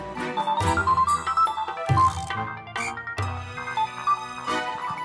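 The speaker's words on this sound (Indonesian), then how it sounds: "HP-nya bunyi tuh" A mobile phone ringtone plays loudly and continuously, a bright repeating melodic tune with no voices over it.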